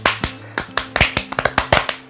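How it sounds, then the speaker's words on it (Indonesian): Hands clap in quick, slightly irregular bursts, about a dozen sharp close claps with a faint steady hum underneath and no talk. "Maksudnya tepuk tangan ya guys."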